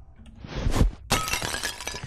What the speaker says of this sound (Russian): Я буду разбивать фигурки,